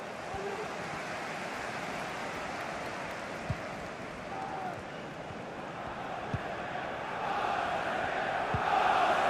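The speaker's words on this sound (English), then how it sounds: "The crowd certainly think so. Just listen to them." A stadium crowd in FIFA 22 during a Champions League group-stage match keeps up a dense, steady roar that swells louder toward the end, with a few faint thumps underneath.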